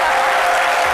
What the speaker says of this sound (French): applaudir très fort pour Jessica Bomba